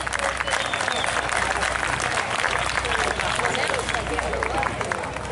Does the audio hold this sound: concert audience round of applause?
yes